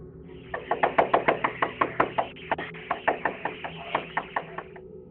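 Frantic knocking on a door at night: a rapid series of about twenty sharp knocks in uneven bursts, close and fairly loud, with no talk.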